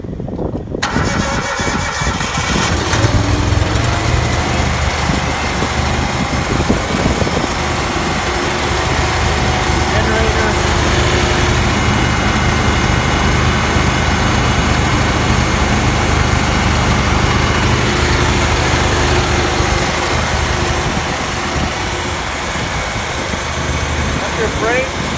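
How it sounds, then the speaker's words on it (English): An 18 horsepower Kohler engine starts after a brief crank, then runs at a steady idle with a continuous, fairly loud mechanical drone that lasts throughout. "powered by an 18 horsepower Kohler engine."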